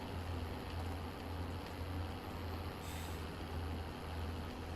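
Heavy truck engine in a video game rumbling steadily at low pitch as the truck pulls away, with a brief hiss near the middle like an air brake releasing.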